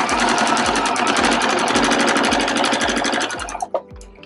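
A sewing machine runs a straight seam down a fabric scrunchie tube, its needle thumping in a fast, even rhythm close by for about three and a half seconds before slowing and stopping with a few clicks.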